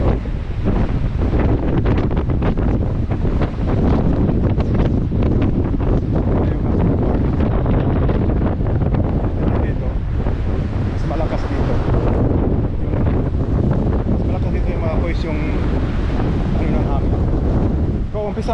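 Strong, roaring wind from Tropical Storm Hurricane Erin buffets the microphone on the Bermuda coast, with crashing surf beneath, a constant loud rush, and someone talking intermittently.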